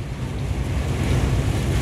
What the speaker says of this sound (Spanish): no ha parado de llover, está fuerte la pinche agua